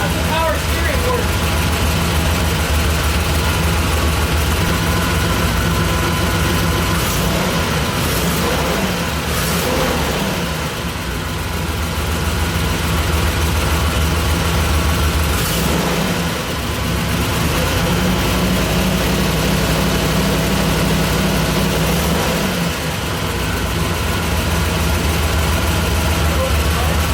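A 1970 Corvette LT-1 V8 idles steadily with a deep, loud and continuous rumble after its first start in over 20 years, with voices talking faintly over it.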